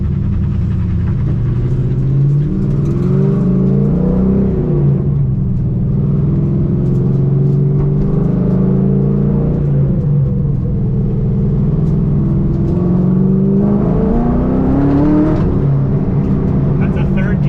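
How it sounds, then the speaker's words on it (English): A Nissan 350Z with rubbing wheels makes a third-gear pull, its engine droning loudly and steadily from inside the car as the revs climb, ease off, then climb again. "That's a 3rd gear pull."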